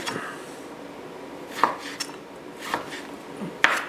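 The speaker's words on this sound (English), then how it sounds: "So I'm going to just thin slice it," A knife thin-slices a freezer-stiffened wagyu steak on a board. A handful of sharp, separate cuts land at an uneven pace against a quiet background.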